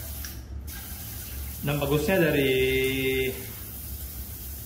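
A Kohler shower WC bidet sprayer blasts water at full pressure in a loud, hissing burst of about a second and a half, cutting off abruptly, while a person talks before and through it.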